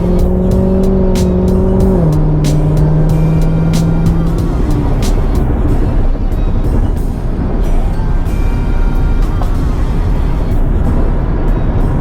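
A Dodge car accelerates onto a highway, its engine rising as it revs through the gears, with steady road and wind roar underneath. The sound is loud and close, heard from inside the cabin.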